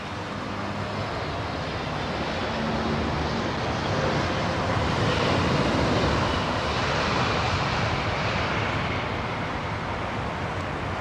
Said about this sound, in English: Rohit Markel landing at London Heathrow on 1st of June